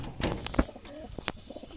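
Desi giribaz pigeons kept as a breeding pair in a loft give a few soft, close coos amid small rustles and light background noise over a brief moment.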